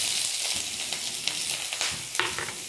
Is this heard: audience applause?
no